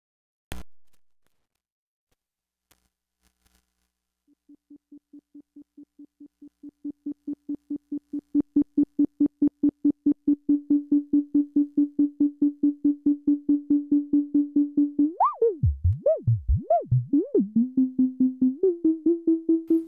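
A Eurorack modular synth voice, sent through a mixer and DVCA, pulses as a steady stream of short tonal beeps that grow louder, then slide into a wobbling pitch sweep before the repeating pulses resume, with no talk.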